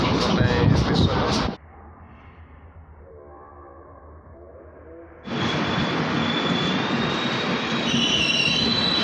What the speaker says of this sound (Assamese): কামাখ্যা জংচন ষ্টেচন পালোঁ। ইয়াতে ট্ৰেইনৰ পৰা নামিম।